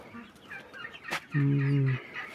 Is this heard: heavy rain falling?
no